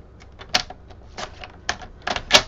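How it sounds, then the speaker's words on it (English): A paper gift card holder cut down the middle, heard as a series of crisp, close snipping clicks in an uneven rhythm, with no voices. "So I'm lining this up and I'm gonna cut that, oops, right down the middle."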